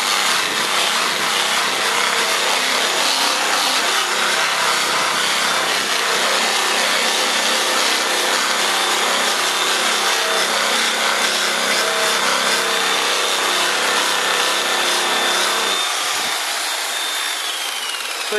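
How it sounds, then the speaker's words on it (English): A grinder flattening a welded urethane plastic bumper cover makes a loud, sustained, high whining grind that runs unbroken for many seconds before easing slightly near the end. "Last thing I'm going to do is I'm going to flatten this out real quick with my grinder."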